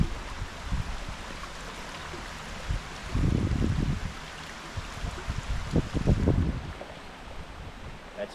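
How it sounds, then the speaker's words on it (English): A stream crossing on the Makahole Trail in Maui, with rushing water and wind buffeting the microphone, steady and moderate, swelling into louder splashy bursts at about three and six seconds. "That's one stream crossing."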